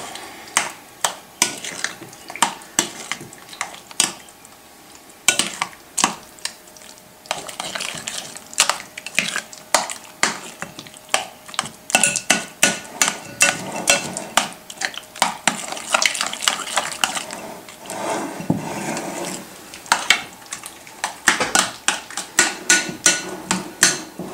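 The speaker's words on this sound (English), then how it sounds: "Let me get all that mixed real well" A spoon scrapes and clacks steadily as it stirs crab dip made with softened Philadelphia cream cheese in a bowl. The taps come quick and irregular, close up, with no talking.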